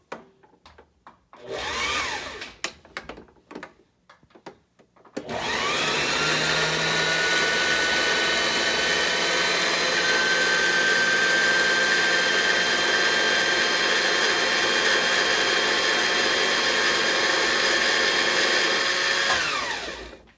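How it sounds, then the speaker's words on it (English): Singer 2732 sewing machine winding a bobbin: after a few light clicks and handling taps, a steady loud motor whine with a slowly rising pitch runs continuously for about fifteen seconds, then stops abruptly. "push the bobbin over, and then you push your foot pedal and it should start winding"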